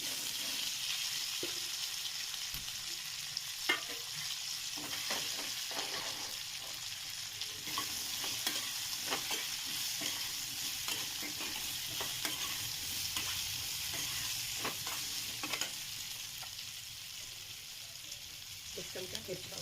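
Cabbage and cauliflower sizzle and hiss steadily in a hot pan for a spicy garlic cauliflower stir-fry, with frequent scraping stirs and clicks of a spoon throughout and no talking.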